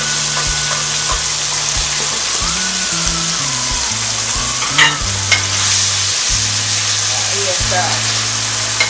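Sofrito with a spoonful of garlic frying in a pan for Puerto Rican pork masitas, a steady close sizzle under occasional stirring and background music, with a brief spoken remark.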